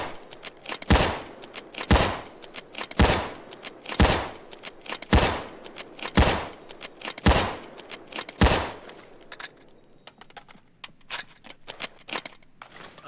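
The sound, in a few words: MSR (Rattlesnake) sniper rifle shots in video game Payday 2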